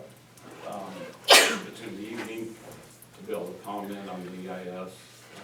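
A single sharp sneeze bursts out in a meeting room during a county commissioners' work session, loud and brief, with people talking before and after it.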